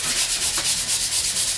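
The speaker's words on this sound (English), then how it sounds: "I'm gonna start sanding all of this down to get a nice smooth finish" A 120-grit sanding sponge is rubbed by hand across a wooden board-and-batten wall, giving loud, rhythmic back-and-forth scrubbing strokes about five per second, close up with no voices.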